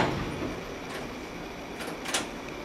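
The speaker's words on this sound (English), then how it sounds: "Let's see if we can close the door." The door of a Schindler MT hydraulic elevator slides shut with a soft, steady rumble, and a few light clunks follow near the end.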